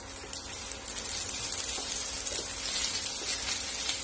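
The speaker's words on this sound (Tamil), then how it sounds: "இப்போ எண்ணெய் கொஞ்சம் சூடானதும் நம்ம ரெடி பண்ணி வச்சிருக்கிறோம்ல இந்த பாவக்காவை வந்துட்டு இப்படி பிளேஸ் பண்ணிடலாம்" Stuffed bitter gourds sizzle in hot oil in a pan, a continuous hissing, crackling fry heard close and fairly quiet, with a few small pops.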